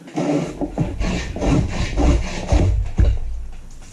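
A dado plane scores and cuts across a wooden board in repeated rasping strokes, each a dry, close scraping rub that builds and fades in a steady rhythm.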